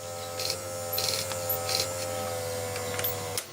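A Rank Arena boombox cassette mechanism runs with its motor turning, a steady mechanical whir with repeated clicking and ratcheting ticks close by, then an abrupt stop near the end.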